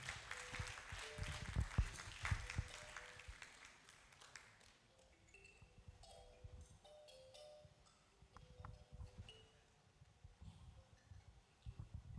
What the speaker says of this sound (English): Shall we clap and welcome Mr. Kodia?